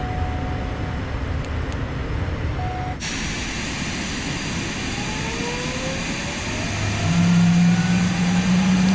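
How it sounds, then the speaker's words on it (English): A second aircraft engine spools up on the ground beside a steady loud background hum, its rising whine climbing gradually through the clip as it starts, with no talk. "And we go back to start the second engine."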